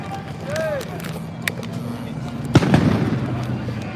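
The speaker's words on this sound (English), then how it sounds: "More fireworks." Fireworks going off outdoors at a street protest in Portland, Oregon, a single sharp pop and then a louder crackling burst near the end, heard over crowd murmur and voices.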